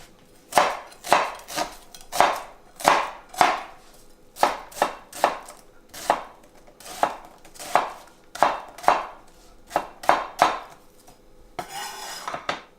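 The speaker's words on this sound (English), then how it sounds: "We have one onion, medium, and we're going to chop that to about medium fineness." A knife chops a medium onion on a cutting board in steady, close, crisp strikes, about two per second, with a brief scraping rustle near the end and no talking.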